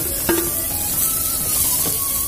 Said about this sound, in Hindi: अब इसी के साथ हम ये प्याज भी डाल दे रहे हैं